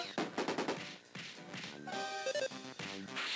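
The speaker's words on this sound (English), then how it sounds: "let's use a running bomb to start things off" Running bomb item attack in the Mother 3 video game battle, a rapid burst of chiptune-style crackling impacts followed by short bright blips and tones over the game's background music.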